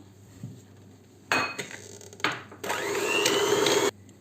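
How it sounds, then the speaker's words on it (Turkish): An electric mixer whisking eggs and sugar in short bursts, then running continuously for a couple of seconds, with clinking of beaters against a bowl. "bir tane yumurtayı ve 3 yemek kaşığı toz şekeri güzelce çırpacağız mikser yardımıyla"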